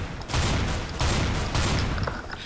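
Rapid bursts of gunfire in Counter-Strike: Global Offensive, three dense volleys in quick succession at moderate loudness, no talking.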